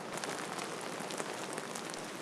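Heavy rain pours steadily with a dense, loud hiss of drops drumming on surfaces outdoors near a natural history museum reserve in Nantes. The downpour is continuous and unbroken, with no voices.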